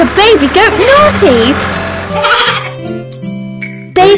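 A young goat bleats in a cheerful children's song, its wavering cries rising over sung vocals and music before the sound thins out and a short final burst ends it.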